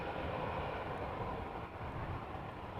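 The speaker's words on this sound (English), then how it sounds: "We're hearing another airplane passing over, departing, flying to the northeast." An airliner departing Amsterdam Schiphol Airport passes overhead, a broad, steady jet roar that holds loud and even across the whole stretch with no voices.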